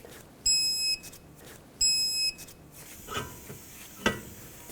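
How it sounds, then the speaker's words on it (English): A torque wrench gives two long electronic beeps, about half a second each, while nuts on a 2007-2009 Saturn Aura front CV axle are tightened to 89 foot-pounds, followed by faint clicks and a small metallic clank. "And now torque them to 89 foot-pounds."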